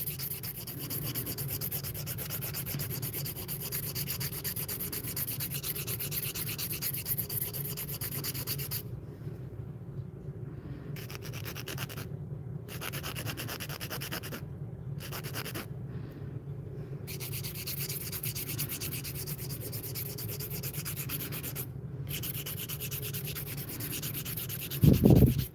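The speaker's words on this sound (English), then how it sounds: "I do majority of my shaping with the hand file" Steady, continuous scraping of a hand file shaping acrylic nails, a dry rasping rub that runs without pause for the whole stretch, close and fairly quiet.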